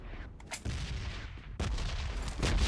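Gunfire in a PUBG Mobile match, a few booming shots landing close, with a louder cluster toward the end and no talk over it.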